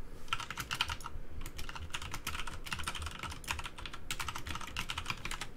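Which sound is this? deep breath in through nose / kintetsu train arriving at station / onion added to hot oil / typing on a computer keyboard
typing on a computer keyboard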